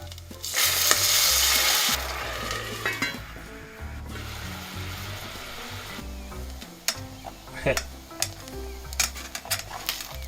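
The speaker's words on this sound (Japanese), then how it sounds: "餃子焼いてみました" Gyoza sizzle loudly in a stainless steel pan, a steady hiss of frying broken by clinks and scrapes of a utensil against the metal.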